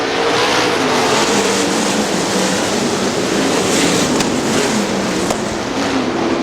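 Sprint cars roar out of turn four at a dirt race track, a dense, loud, continuous engine drone with crowd-like wash and wind, no single car standing out.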